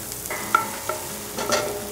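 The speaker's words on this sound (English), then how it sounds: "Oh, there's that sizzle." Soft sizzling in a frying pan, with a few light clinks and stirring scrapes over a steady hiss, no talking.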